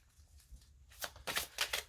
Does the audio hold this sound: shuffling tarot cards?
yes